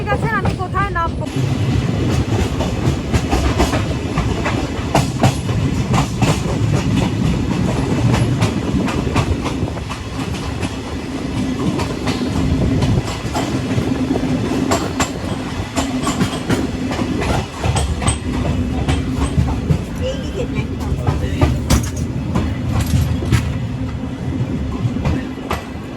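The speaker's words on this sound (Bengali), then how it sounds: "জার্নি শেষ, নামলাম রূপসী বাংলা থেকে। আর এই হচ্ছে বিষ্ণুপুর স্টেশন।" The Rupashi Bangla Express pulls into Bishnupur station with a loud, steady rumble and rhythmic clickety-clack of carriages over the rails, while voices murmur nearby.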